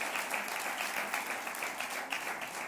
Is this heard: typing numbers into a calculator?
no